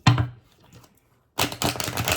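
A deck of tarot cards being shuffled, a brief riffle at the start and then a louder, sustained stretch of rapid papery card clatter close by after a short pause.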